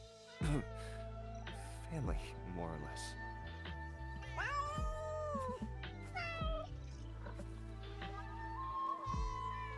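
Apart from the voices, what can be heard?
cats meowing and caterwauling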